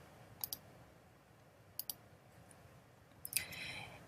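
Computer mouse clicks, several sharp close double-clicks spaced apart over faint room hiss, the last followed by a short soft rustle.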